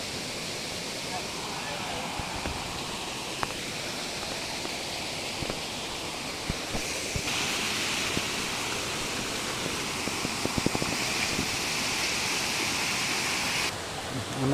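A flooded stream rushes beside a damaged house and kitchen, a steady, close roar of water with scattered small knocks and splashes throughout.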